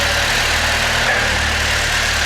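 A car engine, set up for idle on a stand rather than on the road, runs at a steady idle with a continuous, even drone and low rumble throughout, fairly loud and close, with no talk.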